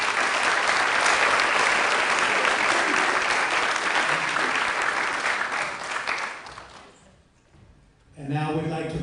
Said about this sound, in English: Let's give these athletes one more big round of applause.